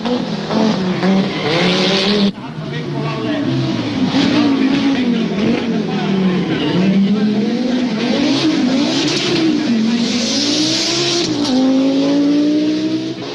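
Audi Quattro long-wheelbase A2 works rally car driving hard on a rally stage, its engine loud and close with rising and falling revs through gear changes, a sharp lift-off and renewed acceleration, tire noise on the loose surface.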